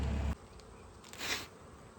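A swarm of honeybees being caught gives a faint, steady buzzing hum that follows a brief low thump at the start and swells slightly midway.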